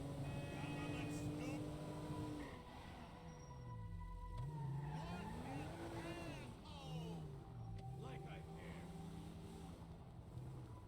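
A car driving in the video game GTA 5, its engine a steady drone that rises and falls as it revs and shifts, loud and continuous, with people talking over it.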